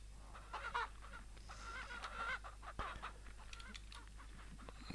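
A hen in the farm game Ranch Simulator gives several soft clucks and short squawks, spread unevenly across a quiet background with a steady low hum and no talk.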